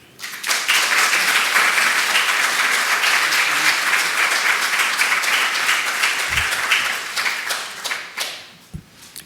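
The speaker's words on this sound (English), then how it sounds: "You really shouldn't clap in advance" Sustained audience applause at a talk as a speaker is introduced, loud dense clapping holding steady for several seconds before thinning into scattered claps and fading out.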